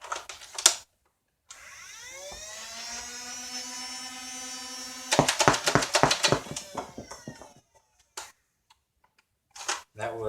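A Nerf N-Strike Elite XD Strife flywheel blaster whines as its motors spin up and hold speed, then fires a quick close burst of about five darts with sharp clicks, followed by a few scattered handling clicks.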